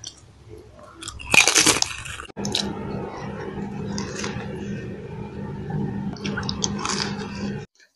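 Close-up bites into pork BBQ baby back ribs during a Filipino mukbang, a sharp crunchy bite followed by several seconds of wet, steady chewing and smacking.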